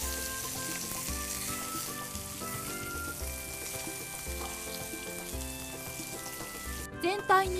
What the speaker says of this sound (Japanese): 豚肉に薄力粉をまぶし、フライパンにオリーブオイルを入れ焼きます。